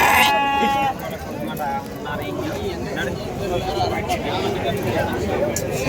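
Sheep and goats bleat at Natrampalli goat market, with several animals calling in short overlapping cries and a dense crowd murmur with nearby talking running throughout.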